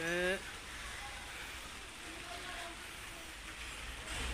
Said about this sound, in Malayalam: അപ്പോൾ ഇതാ ഇവിടെ ഫസ്റ്റ് മഴ പെയ്തിട്ടുണ്ട്